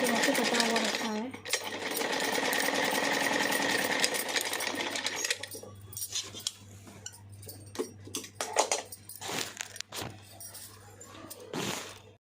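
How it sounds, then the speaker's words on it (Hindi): A sewing machine stitches a suit, a dense continuous whirring run that later breaks into shorter, stop-start bursts with pauses between them. "मैंने सोचा चलो सूट भी सिल लेती हूँ अपना"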